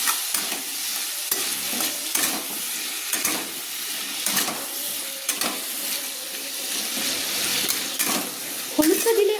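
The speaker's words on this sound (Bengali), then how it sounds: "এবার আমি আলুগুলো একটু ভেজে নিচ্ছি।" Potato pieces with salt and turmeric fry in a pan while a spoon stirs and scrapes them, giving steady close sizzling broken by regular clattering strokes against the metal.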